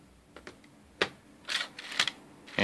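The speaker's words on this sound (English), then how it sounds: "so now remove the keyboard" Quiet plastic clicks and snaps, a few sharp taps spaced irregularly, as the keyboard is pried out of a Toshiba Satellite L300D laptop up close.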